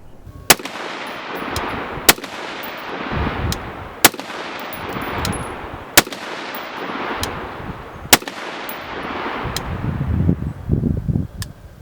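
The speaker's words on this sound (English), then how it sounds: "out at the range, it is a sweet shooting rifle with a lot of different features" A Springfield Armory Saint Edge ATC rifle, an AR-15 type, fired at an outdoor range: five sharp, loud single shots spaced about two seconds apart, each followed by a rumbling echo, with no speech.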